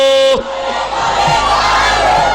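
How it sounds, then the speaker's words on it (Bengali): A large crowd at an outdoor religious sermon roars a takbir chant together, a loud sustained collective shout that rises abruptly after a short lead-in and fills the space. "এইখানে আমরা আল্লাহর বান্দা, আল্লাহর তাকবীর দেব, কোন দলের তাকবীর দেব না।"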